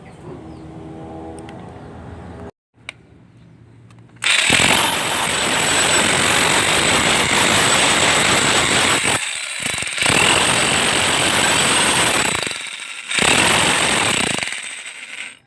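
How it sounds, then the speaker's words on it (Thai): Makita HR3850 rotary hammer running in chisel mode during a repair test, hitting weakly; a loud continuous rattling hammering burst after a brief start, with short pauses and restarts, no talking. "ก็คล้ายๆสกัดไม่แรงนะครับ คล้ายๆเขาสกัดไม่ค่อยแรง"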